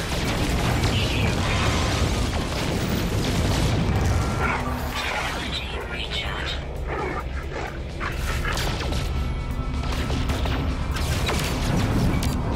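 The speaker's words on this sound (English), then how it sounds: "I just sit here in space, shooting at them." Spaceship weapons fire during a dogfight in space in No Man's Sky on PS4, a dense, continuous barrage of booms and blasts with sharp crackling shots, loud and unbroken throughout.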